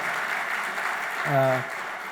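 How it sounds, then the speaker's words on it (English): An audience at a corporate company event claps steadily in a continuous round of applause, with a short harmonic tone, like a whistle or voice, rising briefly near the middle. "a round of applause for all the families who supported us and made sure that we could do that"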